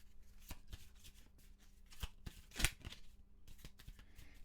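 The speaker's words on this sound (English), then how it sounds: "we have to shuffle all of this back in" A deck of cards is shuffled during a solo Arkham Horror card game on a tabletop, close and quiet riffling with a series of soft flicks and taps, one sharper snap midway, and no speech.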